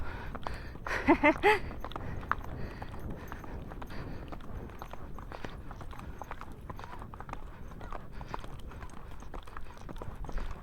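Pony hooves clip-clop steadily along a mountain trail at close range, with a brief burst of voice and outdoor noise near the start and a continuous rhythmic patter of footfalls throughout.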